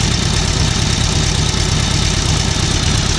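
A restored 1937 Harley-Davidson UL flathead motorcycle engine idles cold, a loud, dense, steady mechanical chug with a rough, uneven low pulse, close up and without talk.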